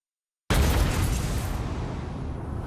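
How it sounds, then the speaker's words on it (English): A gas explosion in a TV drama trailer bursts in abruptly with a loud deep boom, then a broad roaring rumble that slowly decays over two seconds, with no voices. "It was a gas explosion?"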